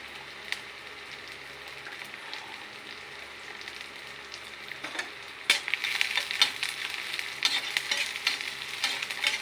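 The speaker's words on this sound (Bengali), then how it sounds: "এটাকে হালকা লাল করে ভাজা করে নেব।" Onions and chopped green chilies fry in a pan with a steady sizzle, then are stirred, and the crackle grows louder and brighter partway through; no one speaks.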